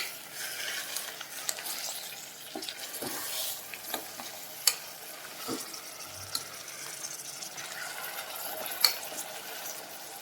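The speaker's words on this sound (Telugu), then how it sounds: "ఇలా యాడ్ చేసుకొని మిక్స్ చేసుకోండి." Paneer cubes and gongura being stirred into a frying pan for biryani, giving a steady scraping and stirring with a faint sizzle, spoon knocks and clinks here and there, close by with no talk.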